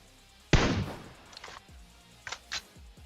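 In PUBG Mobile, a loud gunshot blast opens with a decaying echo, followed by a few fainter distant shots and thuds, sparse and irregular with no voice over them.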